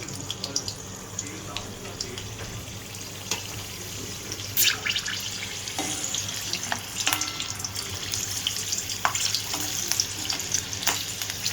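Soft crackling and sizzling of slit green chillies frying in oil, with occasional sharper pops, close by; a voice speaks faintly in the background.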